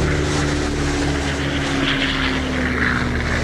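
A WWII propeller aircraft flying in a wartime air-combat setting, its engine drone steady and loud throughout, a continuous rough roar with no speech.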